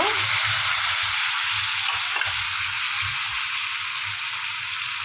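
Tomato mash fries in a pan with a loud, constant, close sizzling hiss. Occasional low thumps of stirring sit beneath it.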